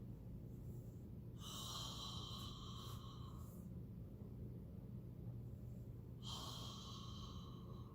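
Slow, deep breaths drawn in and let out during a qi gong exercise, two long audible breath sounds several seconds apart over a steady low background rumble, with no talking.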